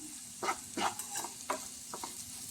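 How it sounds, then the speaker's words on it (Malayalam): Chili and coriander powder sautéing in a pan for a vegetarian okra tamarind curry, with several scraping stirs of a spoon over a faint background sizzle, close and fairly quiet. "ഇതെല്ലാം കൂടി ഒന്ന് പച്ച മണം മാറുന്നത് വരെ ഒന്ന് വഴറ്റി കൊടുക്കാം."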